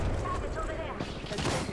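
Weapons in Helldivers 2 fire in a brief, dense clatter of shots that stays fairly steady and moderately loud for under two seconds.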